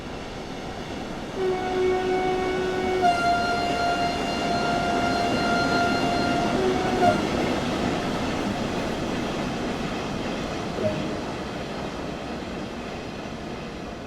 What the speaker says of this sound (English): Oh, here's a train.